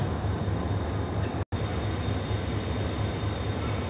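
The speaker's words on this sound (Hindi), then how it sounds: "ट्रेन अपने मुकर्रर वक़्त पर पहुंची है" Badar Express pulled by a GEU-20 locomotive arriving at Faisalabad station, a loud steady rumble and roar of the train with a faint high whine, continuous apart from one brief dropout.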